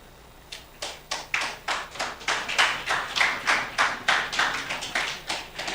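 An audience at a PNP Region 6 outreach evening claps in steady unison, about eighteen sharp, loud claps at an even, brisk rhythm, with no talk over them.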